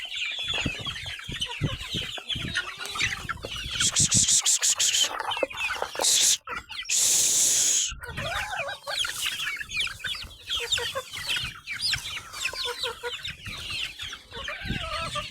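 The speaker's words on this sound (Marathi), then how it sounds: "बघा अशा करतात कोंबड्या" Several village hens cluck and squawk close by in busy, overlapping bursts over maize feed, with scratchy rustling and brief clattering noises between calls.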